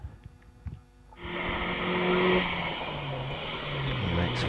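A Mazda MX-5 race car climbs a hillclimb course, its engine note rising suddenly after about a second and staying loud and sustained as it accelerates past, with gear changes audible and faint background noise before it arrives.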